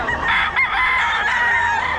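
A sweater gamecock rooster crows loudly and close by in one drawn-out call, with no talk over it.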